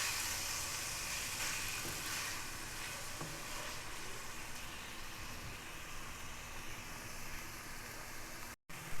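Four hundred grams of chicken mince frying in a pan over medium heat, a steady close hiss and crackle that carries on for several seconds, cut by a brief drop near the end.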